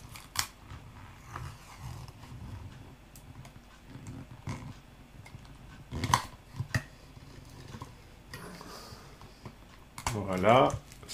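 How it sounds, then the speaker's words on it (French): Adhesive tape is peeled off a surface in a short, raspy, tearing burst near the end, after quiet handling noises and some soft talk. "Je vais décoller mon ruban adhésif."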